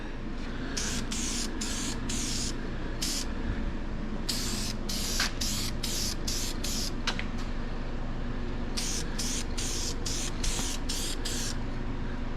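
A '55 Chevy engine gets a light first coat of spray paint in cold weather. Three bursts of close hissing spray repeat in quick on-off pulses over steady background noise.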